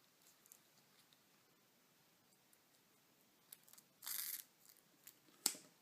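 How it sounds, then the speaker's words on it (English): A strip of diamante banding is cut with scissors at close range, giving a few sharp, crunchy snips over a quiet background with light handling rustle and no talking. "I'm going to cut off the last strip of both sides."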